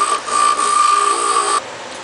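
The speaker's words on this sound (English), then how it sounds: "before I take the blank off the lathe, I think I'll just go ahead and touch it up a little bit here" A wood lathe spins a pen blank while it is touched up and squared, giving a steady, bright whine that holds for about a second and a half before dropping to a softer hum.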